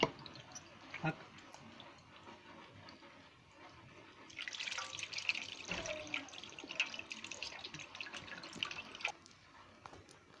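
Running water splashes and drips as dough is washed by hand, the flow growing louder midway, with people talking over it.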